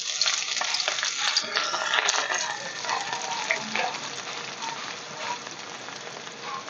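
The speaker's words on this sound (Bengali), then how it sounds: "আমি এতে দিয়ে দেবো পেঁয়াজ কুচি আর রসুন, গোটা রসুন।" Chopped onion and whole garlic hit hot oil and spices for a chicken kosha, giving a loud, dense, continuous sizzle with crackling and stirring that eases slightly toward the end.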